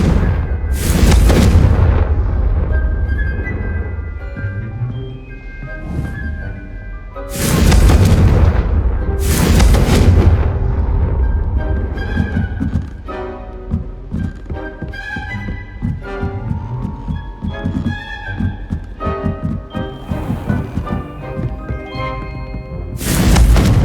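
Confringo blasting spell explosions in Hogwarts Legacy gameplay: several loud, sharp booms in separate bursts, roughly four heavy blasts spread across the stretch with crackling and ringing game effects and music between them.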